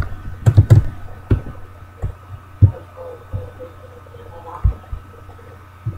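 Keys tapped on a computer keyboard while entering a chat command on a Minecraft creative server, a short cluster of clicks followed by sparse single taps over a low steady hum.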